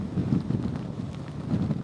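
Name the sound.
strong hurricane wind blowing on reporter outdoors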